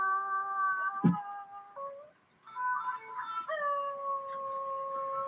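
A dog howls in long, wavering tones, rising and falling with a brief pause midway, loud and close with no talking.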